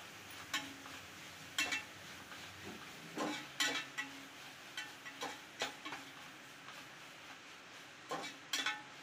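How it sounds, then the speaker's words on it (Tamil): Mint and coriander leaves being sautéed in a pan for chicken biryani, with a soft low sizzle beneath intermittent scraping and stirring knocks of a spoon against the pot, fairly close and with no talk. "இப்போ இதையும் நல்லா வதக்கிக்கலாம்."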